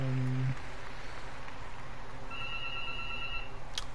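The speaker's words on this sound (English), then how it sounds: "There's my house phone." A house phone rings faintly under low background noise, with a tone at the start and another ring later on.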